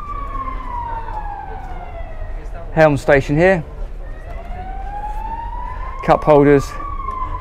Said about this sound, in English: Do apologise for the fire engine.